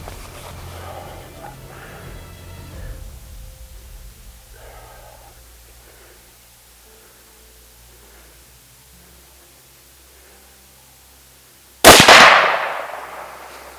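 A quiet stretch in the Zambezi Valley bush ends with a single loud, close rifle shot fired at a buffalo during a hunt, its blast decaying over about a second.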